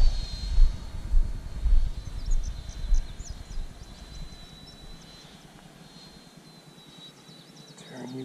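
A Freewing F-22 Raptor RC model jet takes off, its electric ducted-fan whine loud and close at first, then fading as it climbs away, with a thin steady high tone persisting.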